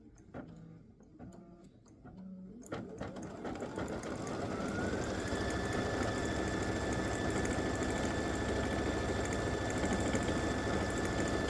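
An embroidery machine stitches lettering onto a patch: a low start with a few clicks, then a fast, steady mechanical whirring and ticking rhythm that settles into a constant, fairly close hum.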